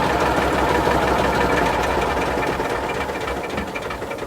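An old engine runs steadily with its flywheel spinning, giving a dense, continuous mechanical churn with a faint knocking texture, fairly loud and close, holding level throughout without any talk.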